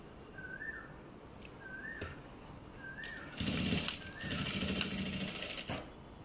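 A sewing machine stitches a pocket onto a pinafore, with short whirring bursts of needle rattle, the longest runs in the second half, between pauses and small clicks.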